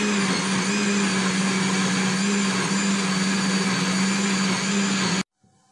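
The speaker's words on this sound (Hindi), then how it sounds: "कच्चे आम जो हैं ये ठंडे हो चुके हैं, मैंने इसको ब्लेंडर में डाल दिया है, इसको ब्लेंड कर दूंगी।" Kitchen blender blending chilled raw mangoes for juice, a loud, steady whirring drone close by that stops abruptly near the end.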